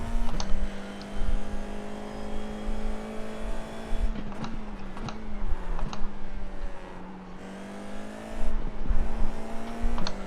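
Formula 4 race car engine at Silverstone in the iRacing sim, a steady loud drone with rising and falling pitch as it shifts gears and brakes through corners, running continuously with no talk.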